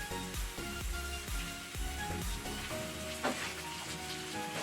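Cauliflower, capsicum, turmeric and salt fry in a hot pan, giving a steady close sizzle with repeated scraping strokes of a spoon stirring through it.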